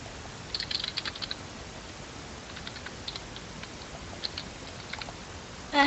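Typing on a computer keyboard comes as uneven clusters of light, quick key clicks with pauses between bursts, under a hissy background and ending in a louder thump.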